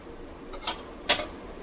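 A metal lid is set onto a cooking pot of raw mango chutney, giving two quick, light clinks about half a second apart against a quiet kitchen background.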